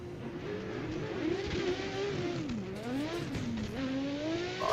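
Drift car in the Assetto Corsa video game with a V4 engine sound, its pitch rising and falling steadily as it revs through transitions, with faint tire noise alongside.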